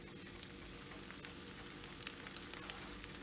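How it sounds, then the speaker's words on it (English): Leftover pasta noodles sizzling in a hot pan, a steady soft hiss with faint crackles and a few small pops, heard close and quiet with no talk. "You just know by listening to the pan when the noodles are cooking too fiercely, then that's too high a temperature."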